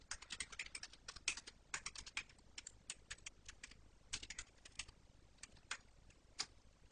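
Rapid computer-keyboard typing of HTML form code, a steady stream of close, crisp key clicks with brief pauses between bursts, no voice.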